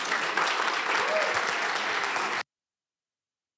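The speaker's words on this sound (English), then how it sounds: "So please, a round of applause for Hajar Mokhtafa." An audience at a tech talk applauds as the speaker is introduced, steady clapping for about two and a half seconds before it cuts off abruptly into silence.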